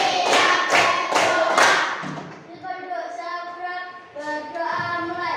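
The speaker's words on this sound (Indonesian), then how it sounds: "Tepuk 1, tepuk 2, tepuk 3, tepuk 4," Four loud, evenly spaced hand claps from a group in an Islamic religious education classroom, following a counted rhythm, then a voice speaking.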